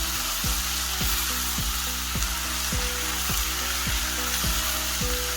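A dry sprouts curry (baazi) fries loudly in a pan, with a constant dense sizzle and a regular rhythm of stirring strokes scraping the pan about twice per second.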